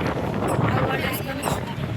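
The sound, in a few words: strong wind outdoors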